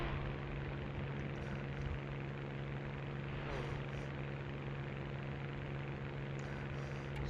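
A propeller fighter engine drones steadily in War Thunder while flying a Spitfire Mk IX in a turning fight against several aircraft, a constant, moderately loud hum with no breaks and no talking.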